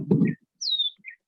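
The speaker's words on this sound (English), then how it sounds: "enough of the bird sound" A recorded bird chirp played back during a studio talk show: a short low rumble, then a few clear, high, sliding tweets with brief gaps, close and isolated against silence.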